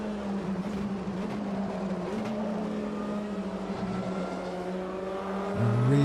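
A race car engine at Daytona in Automobilista 2 holds a steady high drone in the slipstream, then revs louder and deeper near the end.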